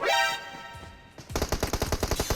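Gunfire in the battle royale shooter PUBG Mobile: after a brief tonal swell, a rapid burst of about a dozen loud, sharp shots rings out in quick automatic rhythm, close and dominant with no talk over it.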